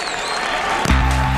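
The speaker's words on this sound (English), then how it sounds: "With cheering crowds, the national flag is lowered" A crowd at a border checkpoint cheers and claps during the evening flag-lowering ceremony, a dense, loud roar that swells near the end.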